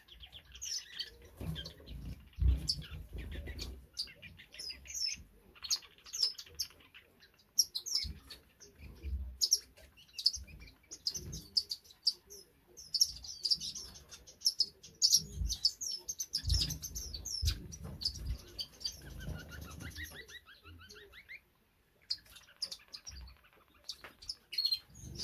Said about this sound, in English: Here's an African silverbill